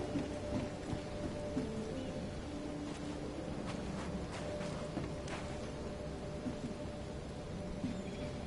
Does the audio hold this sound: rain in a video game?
yes